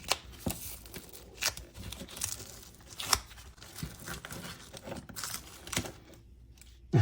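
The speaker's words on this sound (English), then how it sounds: "Just peel our way in. That's the problem with duct tape," Duct tape is peeled in short ripping and crinkling bursts from an improvised armour plate after a ballistic test, close and fairly quiet, with brief pauses between pulls.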